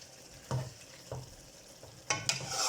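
A spoon stirs a vegetable biryani mixture with vinegar and lemon in a pot, making several scraping strokes against faint sizzling, with a brisker pair of strokes near the end.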